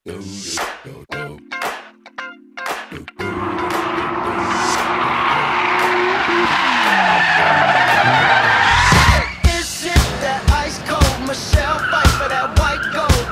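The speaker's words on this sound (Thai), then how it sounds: "มาถึงบรรยากาศของการแข่งขันรอบชิงชนะเลิศช่วงบ่ายวันนี้รถยนต์ทุกรุ่นได้เป็นการขับเคี่ยวกันอย่างสนุก" Cars skid and squeal their tires in a gymkhana final at Chanthaburi, with a long loud screech building over engine roar, then sharper bursts of revving and sliding, close by.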